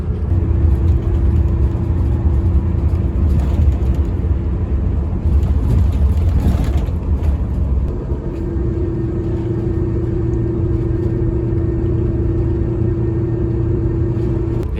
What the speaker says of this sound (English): another really comfortable coach bus ride